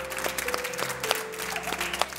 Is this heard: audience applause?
yes